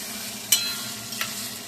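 Red chili paste goes into spices frying for a Bengali mutton curry, giving a steady hiss of oil with two brief sharp scrapes of stirring; no voices.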